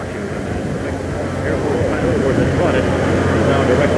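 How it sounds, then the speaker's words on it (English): An official jet aircraft approaching an airport, a continuous broadband engine roar growing a little louder, with crowd and ambient noise mixed underneath. "That's a jet."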